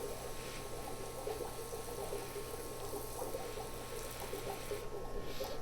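Water sprays steadily from a mister onto a rose bonsai, a continuous close hiss that runs throughout without pause.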